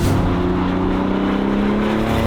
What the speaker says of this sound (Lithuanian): pirmas reikalas, kad pakankamai keistai skamba variklio garsas iš galo